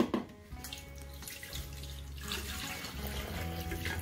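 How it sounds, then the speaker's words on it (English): Liquid for a green smoothie pours into a blender in a steady running splash, close and continuous with a gurgling start and fuller flow toward the end. "we're gonna pour some on our blender"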